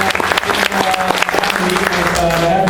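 A convention audience applauds and cheers loudly and steadily for Jim McCann, former Marvel marketing executive, with dense clapping, whoops and voices mixed throughout.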